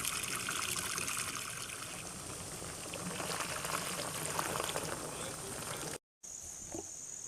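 Clean water runs through a sprayer's pump and nozzles with a soft, continuous bubbling trickle, quiet and close, ending abruptly in a short silence before a faint high tone.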